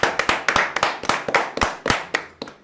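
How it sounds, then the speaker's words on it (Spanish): Brisk clapping from a small studio audience on a radio show, a run of sharp, close hand claps in uneven rhythm welcoming a guest. "recibamos con un fuerte aplauso a Compa Club"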